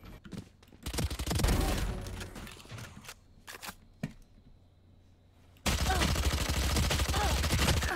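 Rapid bursts of gunfire in the tactical shooter Valorant, loud and dense in places, with a short lull before a sustained, steady stretch of shooting fills the final seconds.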